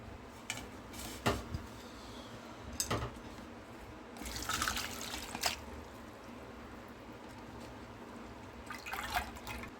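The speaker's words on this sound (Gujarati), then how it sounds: "અને આમાંથી બધું પાણી નીતરી જાય ત્યાં સુધી તેને રહેવા દેશું।" Water drips and trickles from grated sweet potato lifted out of a bowl of water, giving scattered wet splashes and small pours close by against a quiet background, with no talking.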